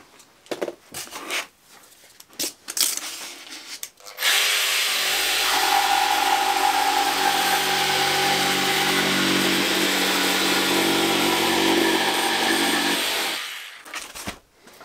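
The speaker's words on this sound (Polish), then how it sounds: "Brzeszczot o numerze 3545 tniemy jakąś krzywą linię." A jigsaw fitted with a 3545 coarse-cut blade saws a curved line through a kitchen countertop, loud and steady for about nine seconds after a few brief knocks, then winding down.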